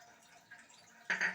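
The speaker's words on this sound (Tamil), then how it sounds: "இப்போது நார்மல் வாட்டர் தான் ஊற்றுறேன்." Plain water poured into a cooking pot holding moong dal and chana dal. A quiet trickle swells into a short, brighter splash near the end, with no talking.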